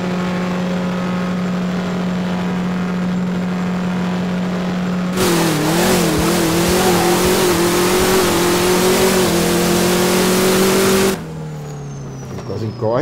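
A tuned Chevrolet Bel Air engine in the racing game No Limit idles with a steady hum, then revs hard and holds a high roar before dropping back, loud and close.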